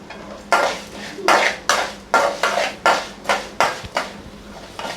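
A metal spoon scrapes and clatters against a pan as urad dal is roasted and stirred over a medium flame, giving about a dozen rhythmic, evenly spaced strokes, close and clear, with no talking.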